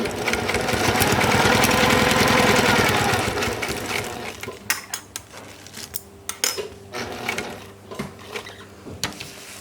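A sewing machine hems the top of a UV sacrificial strip on a genoa or jib sail, running in a steady loud whir for about four seconds before giving way to scattered clicks and knocks of handling.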